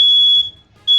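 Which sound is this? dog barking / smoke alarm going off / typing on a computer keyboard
smoke alarm going off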